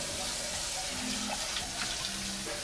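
Tap water running into a kitchen sink while dishes are washed, a steady soft hiss of flowing water with faint clinks, fairly quiet and continuous.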